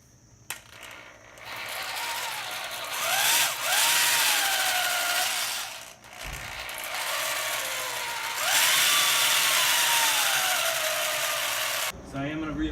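Power drill spinning a large bit to ream out a tire puncture, a loud steady whine that rises and falls in two long bursts with brief pauses between.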